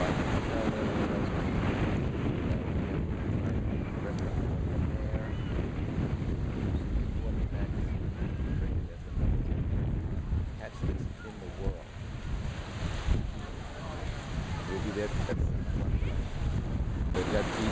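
Ocean waves and gusty wind on the ocean side of Tikehau Atoll in French Polynesia, a steady roar of surf with heavy wind buffeting the microphone, constant and loud throughout.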